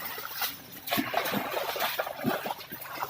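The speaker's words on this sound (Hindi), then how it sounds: "जहाँ वो ट्यूबवेल लगा हुआ है उससे ये सारा पानी जो है अब ये खेतों की तरफ जो है जा रहा है" Irrigation water gushes from a tubewell and flows off toward farm fields in rural Tandojam, Sindh, a steady broadband rush of splashing and trickling with louder surges, fairly close and heard alone.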